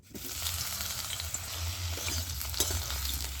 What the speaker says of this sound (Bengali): কড়ার মধ্যে আমি একটু সরষের তেল দিয়ে আমি সবজিগুলো ভেজে নেব।